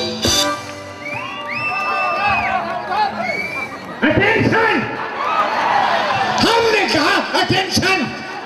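A live audience cheers, whoops and shouts for Bollywood comedian Asrani as he takes the stage at a comedy show, with a dense, lively crowd roar and bursts of high shouts running through the whole stretch.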